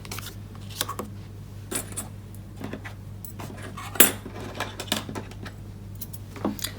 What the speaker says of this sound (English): I'm going to bring the Big Shot in and we'll quickly die cut some of those pieces